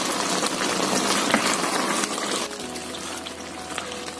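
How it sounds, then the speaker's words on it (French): Chicken with onions and mustard simmers in a pot, a steady dense bubbling and sizzling that softens slightly partway through, heard up close without talk. "Ça a déjà bien mijoté là."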